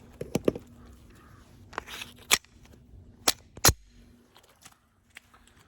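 Glock 17 pistol fitted with a 20-round Magpul 9mm PMag, fired outdoors in several sharp, loud single shots spaced irregularly, then quiet.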